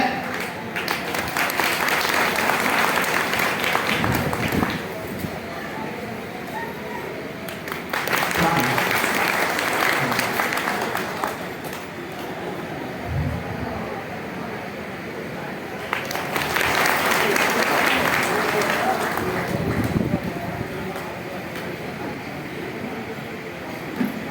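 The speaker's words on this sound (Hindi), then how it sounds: "ताली से अभिवादन करें, स्वागत करें" An audience at a public speech gathering claps to welcome speakers, in three loud rounds of applause separated by quieter pauses.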